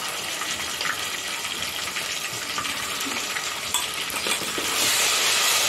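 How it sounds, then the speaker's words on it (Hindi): Ginger garlic paste frying with browned onions in hot oil for an Aurangabad-style khaliya, a steady close sizzle that runs without pause and swells a little louder toward the end, with no talking. "देखिए, हमारा अदरक लहसुन अच्छे से भून रहा है"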